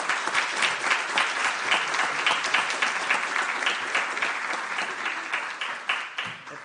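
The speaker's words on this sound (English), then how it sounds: "so big applause" A conference audience at the closing session of a marine spatial planning meeting breaks into a steady round of applause, dense clapping filling the room for several seconds and fading slightly at the end, with no talk over it.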